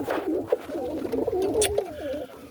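Roller pigeons coo in a loft at night during feeding time. Their soft, rolling calls rise and fall close by, with a few rustles and shuffles mixed in.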